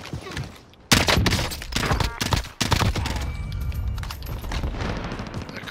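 M16 rifle fire in a video-game firefight, with loud sharp bursts and rapid volleys cracking close by, a brief lull near the start, then continued shooting under low background rumble.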